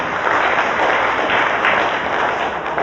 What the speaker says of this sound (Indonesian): Tepuk tangan untuk Bapak sekalian.